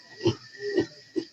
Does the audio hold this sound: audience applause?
no